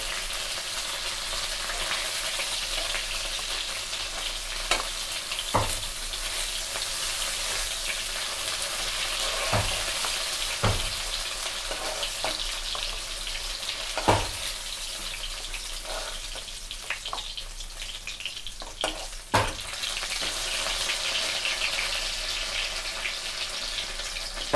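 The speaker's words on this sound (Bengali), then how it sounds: "এবার বাকিগুলো আমরা ভেজে তুলে নেব।" Chicken pieces for chili chicken frying in oil with a steady, broad sizzle, joined by occasional sharp pops and crackles over a long unbroken stretch, no voices.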